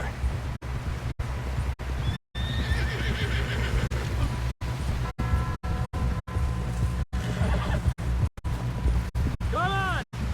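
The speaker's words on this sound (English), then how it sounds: "Someone help John down off this horse." Horse neighing and hooves clip-clopping in the video game Red Dead Redemption 2, with a whinny rising near the end over steady wind, rhythmic hoofbeats and someone talking.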